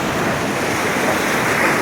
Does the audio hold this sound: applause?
no